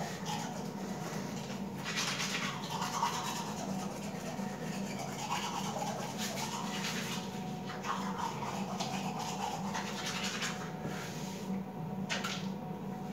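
Toothbrush scrubbing teeth, a continuous close, soft brushing rub with rhythmic strokes and occasional louder scrapes across the whole stretch, with no talking.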